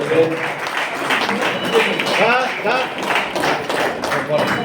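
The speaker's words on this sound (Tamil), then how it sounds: "நல்ல ஒரு கைத்தட்டல் கொடுத்து நம்ம வாழ்த்தை தெரிவிக்கிறோம்." Audience clapping at an award ceremony where a lifetime achievement award is presented, during a district association's festival in Thanjavur; steady, fairly loud applause fills the room while voices talk over it throughout.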